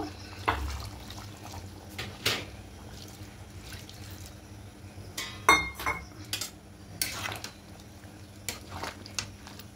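Chicken malai curry with coconut milk is stirred in a pan: irregular clinks and scrapes of a utensil against metal over soft liquid sloshing, fairly close, with no talking.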